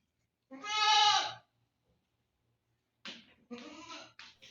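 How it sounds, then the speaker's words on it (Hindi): A sacrificial goat for Eid al-Adha in Saudi Arabia bleats in a long, loud, wavering cry, followed after a pause by a second burst of shorter, broken bleats nearby. "ये देखें हमारा कुर्बानी का बकरा।"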